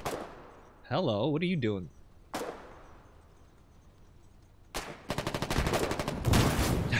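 Artillery fire in the war game Foxhole: a sharp blast near 2.3 s, then a dense, loud run of rapid explosive cracks and booms from about 4.8 s to the end, with a brief voice and a whistling tone earlier.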